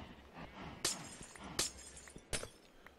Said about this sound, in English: Break this glass out right here.